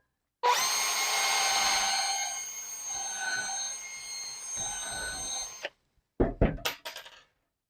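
A power drill whines steadily for about five seconds as it drives a screw straight into a computer desk with no pilot hole, then stops with a few short bursts and thunks.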